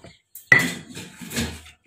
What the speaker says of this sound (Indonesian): Ini kita masukkan jahe yang kita tokok-tokok.